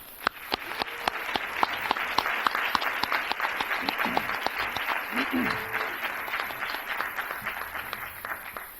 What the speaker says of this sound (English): How about we give these guys a big round of applause?